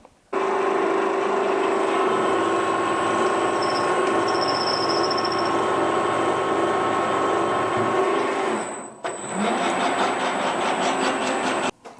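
A ZAY7045V milling machine drills a 3/8 hole in a steel piece just under half an inch thick, giving a loud steady motor hum and whine that briefly dips near the end, with no talking.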